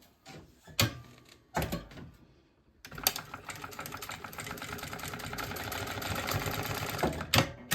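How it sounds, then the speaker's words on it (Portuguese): Sewing machine stitching a seam along the top of a fabric maternity bag, a steady mechanical whirring run lasting about five seconds after a few short handling knocks, fairly close and with no talk. "Então, eu vou passar a costura aqui em cima."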